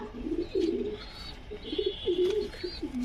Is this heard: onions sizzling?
no